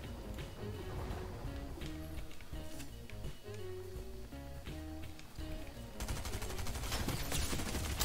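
Gunfire from a Fortnite match crackles through a dense bed of game music, with scattered shots, no clear single bursts, and a noisier, busier stretch near the end.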